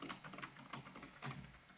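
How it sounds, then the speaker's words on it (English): Typing on a computer keyboard, heard close but quietly: a steady patter of small clicks and taps at an uneven rhythm, with no voices. "I hit the tab key, and I start typing"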